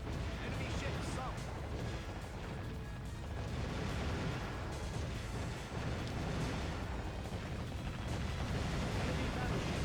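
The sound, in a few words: enemy ship sunk with explosions in Warship Gunner 2 video game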